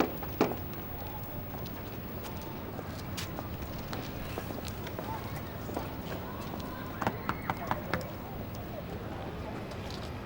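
Footsteps in a period street setting, mixed with horse hooves clip-clopping and a busy outdoor hum, with a few sharper steps standing out near the end.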